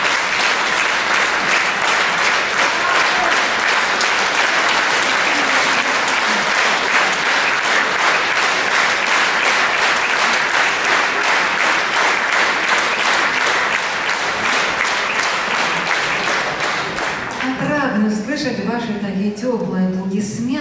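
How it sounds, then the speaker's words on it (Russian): Warm, sustained applause from a concert audience at a Russian operetta show, loud and steady for most of the stretch before fading as a voice begins speaking near the end. "Теплые аплодисменты в адрес наших гостей"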